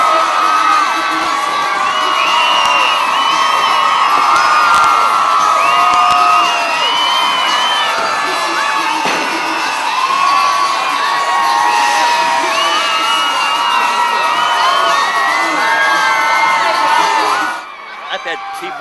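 A huge parade crowd of thousands lining both sides of the street screams and cheers in a loud, continuous roar with whoops and shrill shouts, dropping off abruptly near the end.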